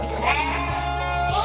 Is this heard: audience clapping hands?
no